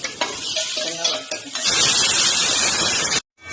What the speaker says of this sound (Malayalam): ഇപ്പൊ തേങ്ങ വറുക്കണം.